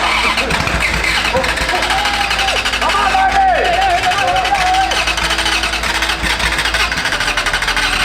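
The engine of a Ferrari F355, flooded with starter fluid, cranks and sputters loudly and continuously at close range, while people talk over it.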